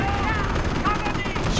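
Gunfire in the World War II strategy game Company of Heroes rattles as dense, continuous machine-gun and rifle fire in a noisy battle, with voices calling out over it.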